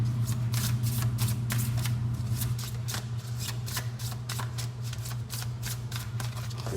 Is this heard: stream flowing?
no